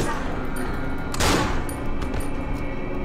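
Gunshot in the horror video game Cry of Fear multiplayer, one sharp loud blast standing out over a steady background hum, followed by a brief decaying tail.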